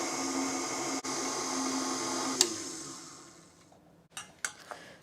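An electric mixer whirring steadily through sweet potato pie filling for a few seconds, then switching off and winding down, followed by a few light knocks and clatters nearby.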